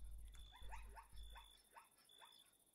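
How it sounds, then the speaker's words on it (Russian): A dog in the Minecraft video game gives a run of short, quick barks or yips, about five in a row, fairly faint over a low background hum. "Собака была?"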